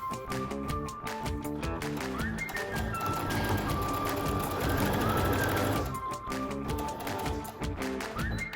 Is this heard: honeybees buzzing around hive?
no